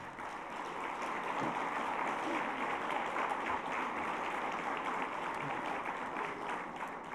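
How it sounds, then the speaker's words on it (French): Sustained audience applause at a school boards federation congress (FCSQ) in 2015, a steady broad wash of clapping from a large hall crowd with no talk over it. "On peut les applaudir très fort."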